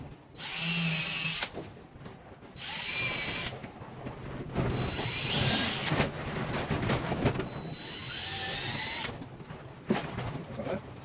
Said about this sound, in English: as always, pre-drill your holes